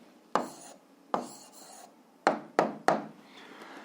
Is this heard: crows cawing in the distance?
no